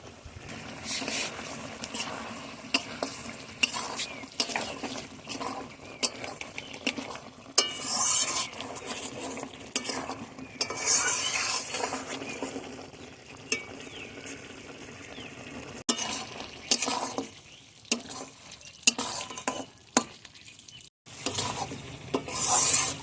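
Chicken skin and liver being stirred and fried in a pan for a spicy Bangladeshi home-style bhuna, with steady sizzling broken by frequent scraping spoon strokes, close and fairly loud, no talking.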